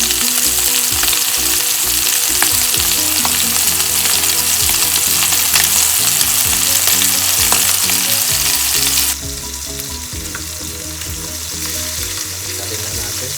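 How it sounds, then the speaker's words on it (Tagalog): Chicken frying in a pan gives a loud, steady sizzle with crackling pops throughout, dropping slightly in intensity toward the end, with no talking. "umpisa na nating ipirito ang ating chicken"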